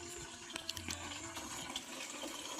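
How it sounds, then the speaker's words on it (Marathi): Tap water runs and splashes into containers at a village home, a faint continuous gush with small irregular clunks and knocks. "पाणी भरायचं काम चाललंय"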